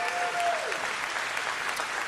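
An audience claps at a campaign speech event in Aston, Pennsylvania, with steady, dense applause from a crowd, fairly distant and even, as a faint sustained tone fades early on.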